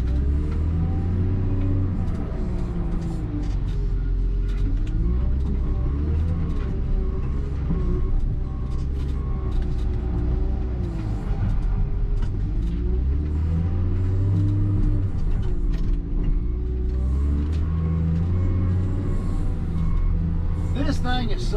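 A John Deere 624K wheel loader, an old military unit, sorting logs: its diesel engine rumbles loudly and steadily, rising and falling with throttle and load, while someone talks over it throughout.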